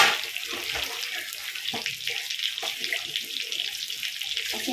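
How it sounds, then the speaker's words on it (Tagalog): Running tap water splashing steadily into a kitchen sink while dishes and used plates are washed during cooking, with faint clinks of dishware beneath the constant spray. "Habang nagluluto guys, ay naguhugas ako guys."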